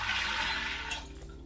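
Three litres of cold water poured into a pot over drained soaked beans for cassoulet, a steady close rushing splash that thins out toward the end.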